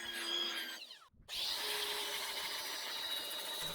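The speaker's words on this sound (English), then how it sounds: "Here I'm starting to grind the surface to prep it for the bondo" Power grinder working the surface of a DIY fiberglass speaker enclosure to prep it for bondo, heard as a steady close abrasive whine that briefly cuts out, then resumes loud and continuous.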